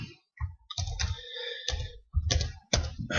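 Keys clatter on a computer keyboard while text is entered into a Word 2010 document, with quick bursts of close, crisp clicks separated by short pauses.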